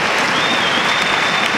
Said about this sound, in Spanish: los aplausos.